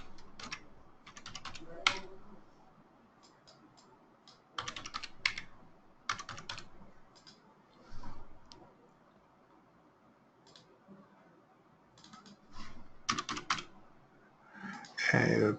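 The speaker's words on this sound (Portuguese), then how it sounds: "Problemas com o teclado." Bursts of typing on a computer keyboard during troubleshooting in a VMware vSphere 6.5 setup, quick clustered keystrokes separated by pauses, close and fairly quiet, with a louder flurry near the end.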